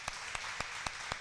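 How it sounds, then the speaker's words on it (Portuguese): Faint, slow, evenly spaced claps at a church service, five distinct hand claps in just over a second, quiet and distant against a soft background hiss. "Vamos dar um aplauso ao Senhor."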